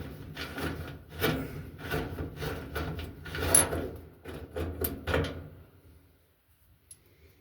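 A nut being twisted off a roller by hand inside a Samsung clothes dryer, with close, scraping metal-on-plastic rubbing and clicks in uneven bursts that fade to near silence at the end.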